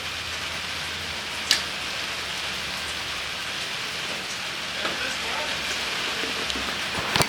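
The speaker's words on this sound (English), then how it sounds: "It is nasty, rainy. It is horrible out here." Steady rain falls outdoors in nasty weather, a constant close hiss of drops on surfaces, broken by a couple of sharp knocks and clatters.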